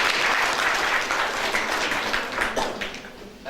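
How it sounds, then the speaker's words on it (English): An audience applauding: dense, steady clapping from a crowd in a hall, filling the whole stretch and fading a little toward the end. "But I was not satisfied with that clapping."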